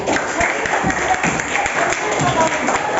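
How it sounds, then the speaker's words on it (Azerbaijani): Studio audience at a televised quiz competition clapping, a dense even wash of applause that holds steady and close throughout, with voices mixed in underneath. "Çox sağ ol, alqışlar."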